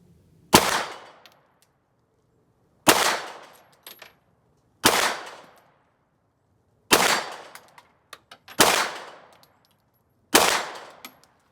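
A Sig X5 pistol fires shots at a 25-yard target, six loud sharp single reports spaced a couple of seconds apart, each with a short ringing decay, no talking.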